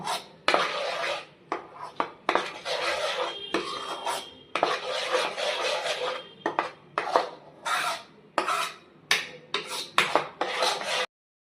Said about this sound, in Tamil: கொஞ்சம் சிம்மிலே வச்சுட்டு நம்ம பண்ணிக்கலாம், கிளறிக்கலாம்.